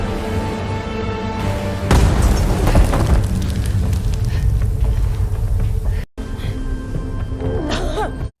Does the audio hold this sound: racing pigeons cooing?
no